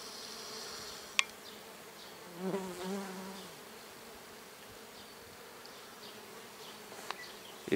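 A bee buzzes close by for a moment around roses, with faint insect hum and quiet outdoor ambience around it.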